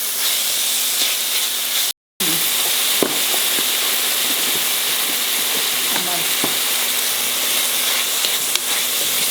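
An onion and tomato vegetable dish fries loudly in a pan with a constant close hiss and crackle, while a spoon stirs it in scattered scrapes and taps.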